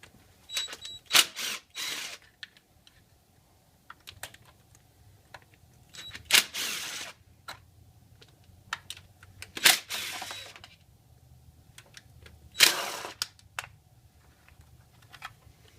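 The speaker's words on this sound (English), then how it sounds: "So from here, we're going to take all these bolts out." Bursts of ratchet clicking and sharp metallic taps come and go in several separate spells, close and moderately loud, as valve cover bolts are backed out on a Jeep Cherokee 4.0l engine, with quiet stretches in between.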